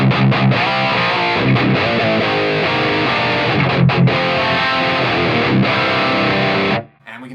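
Distorted electric guitar played through the high-gain channel of a PRS Archon amplifier with the mids cranked up, loud sustained chords and riffs running continuously before cutting off near the end, with no talking.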